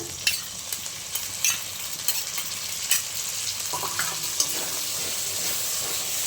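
A spiced masala of garlic, turmeric and tomato paste fries in a pan, giving a steady hiss of sizzling with scattered scraping and stirring clicks throughout, close and moderately loud.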